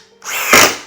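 A Metabo 40-volt power drill spins up smoothly, a brief close whir that rises quickly and holds steady.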